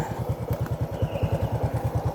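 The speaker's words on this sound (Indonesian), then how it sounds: "motornya bunyi aja ya. Biarin aja, matiin pemirsa. Boros bensin" A 2012 Honda Karisma 125 motorcycle engine idles nearby with a steady, rapid putter of evenly spaced low thumps and a faint mechanical clatter, heard alone without talk.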